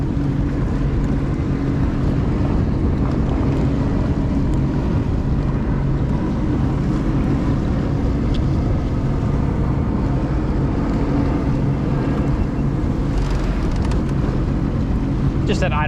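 A jet ski engine idling on open water, a continuous low rumbling drone with wind buffeting the microphone, steady and close throughout, with voices heard over it.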